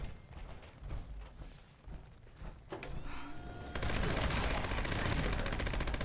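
Gauss minigun fire in Fallout 76, a quiet mechanical patch giving way to a dense, loud, continuous roar of rapid shots that carries on steadily to the end.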